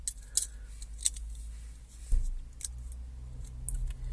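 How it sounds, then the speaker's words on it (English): Battery being fitted back into a small Starline i96v2 immobiliser tag for a Range Rover Sport Hybrid: a few crisp plastic clicks and snaps up close, followed by a soft handling thud, in a quiet space. "we're going to put the battery back in the tag"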